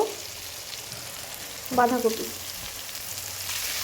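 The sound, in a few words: cabbage stir-fried in oil for chowmein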